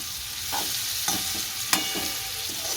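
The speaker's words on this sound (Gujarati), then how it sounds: "અને આમ ધીમા તાપે હમણાં હલાવે કરવાનું થોડું થોડું," Stuffed okra stirred in oil over a low flame, with a soft continuous sizzle and a few spoon scrapes and clinks against the pan, heard up close.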